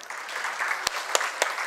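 Brief applause from an audience welcoming guests at a literary gathering, with dense clapping and a few sharp, louder claps standing out.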